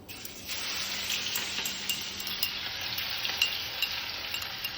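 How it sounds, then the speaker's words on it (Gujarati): Garlic shallow fries on low heat in oil with cumin and asafoetida, giving a steady, close sizzle that rises just after the start and carries a few faint pops and crackles throughout. "અને લસણ થોડું શેલો ફ્રાય થવા દેવાનું, ગોલ્ડન બ્રાઉન."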